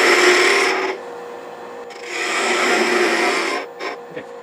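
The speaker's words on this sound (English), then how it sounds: "Using a 3/8 inch spindle gouge." A 3/8 inch spindle gouge cutting a small wooden tulip on a lathe gives a steady rasping scrape in two long bursts, a short pause between them, then a few brief catches at the end, close and fairly loud.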